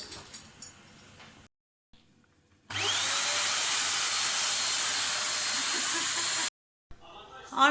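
A vacuum cleaner roars steadily for several seconds, loud and close, with a high whine, after quieter background sounds and a brief silence.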